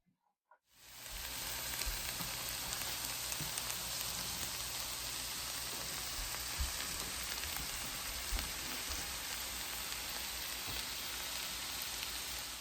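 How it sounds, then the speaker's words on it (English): Leeks and pancetta frying in a pan, a steady, dense sizzle that starts abruptly after a brief quiet moment and carries on evenly, alone and close. "now we'll cook our leeks until they are a little bit translucent, nice and soft"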